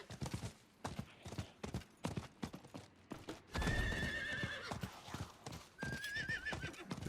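A horse in Diablo 4 gallops with rapid, rhythmic clip-clop hoofbeats and gives two loud neighs partway through, close and prominent with no talking.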